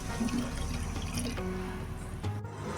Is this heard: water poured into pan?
yes